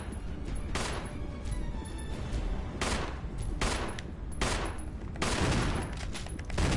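Gunfire in the survival horror game Resident Evil: dense, continuous shooting with repeated sharp cracks over a loud, rumbling background, with no talking.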